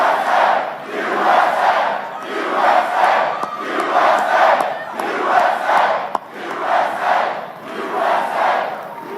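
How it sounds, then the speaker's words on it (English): A large crowd at a presidential political rally in Lebanon, Ohio cheers and shouts continuously, swelling in repeated waves of roaring voices with no speech over it. "this has been it's a good crowd"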